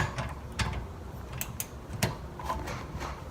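A 14mm brake caliper bolt being loosened on a Mazda RX7 with a socket wrench, giving faint ratcheting clicks and metallic ticks in an irregular rhythm, close by and quiet.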